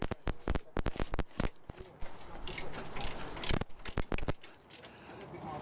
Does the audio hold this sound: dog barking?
no